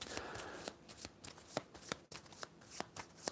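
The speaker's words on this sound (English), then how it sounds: "While I'm shuffling the deck" A deck of cards is shuffled by hand during a Fields of Fire board game session, with a series of crisp riffling bursts and snaps repeating steadily, close and fairly quiet, with no talking.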